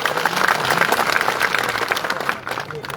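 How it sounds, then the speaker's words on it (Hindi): Loud, sustained clapping from a large crowd at a public political rally in India, welcoming Baba Saheb on cue, dense and continuous with crowd voices blended in. "एक बार आप बाबा साहब के लिए जोरदार तालियां बजा के स्वागत कीजिए"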